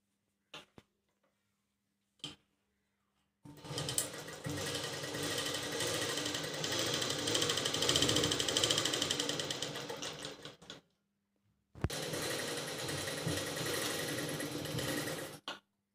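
A sewing machine stitches lace around a blouse in two long bursts of fast, even mechanical chatter, close and fairly quiet, separated by short pauses and a couple of isolated clicks.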